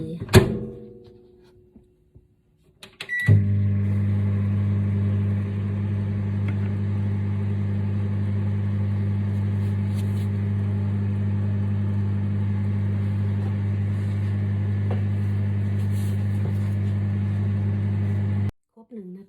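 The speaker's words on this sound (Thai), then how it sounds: "จากนั้นก็เอาเข้าไมโครเวฟหนึ่งนาที" A microwave oven hums steadily for about fifteen seconds while heating wide rice noodles, a loud low drone that starts abruptly after a door clunk and cuts off at the end.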